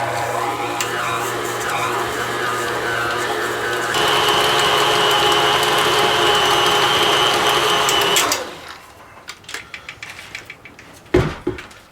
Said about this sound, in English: And we're going to mix until smooth.